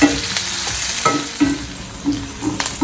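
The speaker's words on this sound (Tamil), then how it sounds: "அதோட கருவேப்பிலை போட்டுக்குவோம், பச்சை மிளகாய் போட்டுக்குவோம்." Curry leaves and green chilies fry and sizzle loudly in hot oil in a pan for pepper chicken, with a utensil stirring and scraping in irregular strokes close by.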